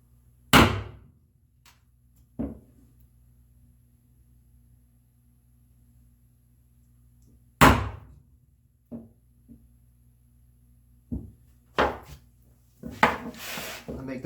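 A hand chisel strikes walnut in bookcase joinery, taking shallow cuts and levering out waste. Sharp, isolated knocks and taps arrive irregularly, separated by quiet gaps, with a cluster of scraping and prying sounds at the end.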